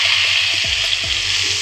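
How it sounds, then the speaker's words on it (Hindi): Ajwain seeds sizzling in hot oil for a kadhi pakora tempering, a loud, continuous hissing crackle heard close up with a few soft clinks. "ये अजवाइन का तड़का मैं लगाने लगी"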